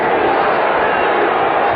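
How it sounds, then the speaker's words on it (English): Dense, steady roar of a large football crowd at Three Rivers Stadium during a 1987 Seattle at Pittsburgh Steelers game, a continuous loud wash of cheering voices with no breaks. "Crowd picks up the noise level here at Three Rivers."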